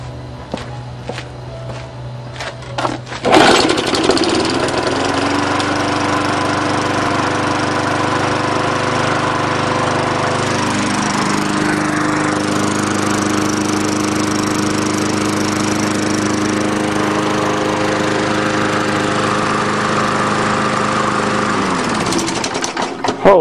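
A small Tecumseh lawn mower engine sputters, catches and roars to life, then runs steadily and loudly at close range.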